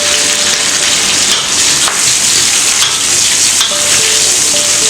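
Curry leaves crackle in hot, reused oil, making a loud, dense sizzle like heavy rain that runs unbroken throughout, with faint stirring knocks and no talk.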